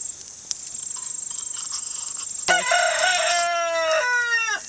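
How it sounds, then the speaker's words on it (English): A rooster crows loudly and close by at a rural outdoor wood-fire canning setup, a long rising and falling call, preceded by a steady high insect-like buzz. "Rooster."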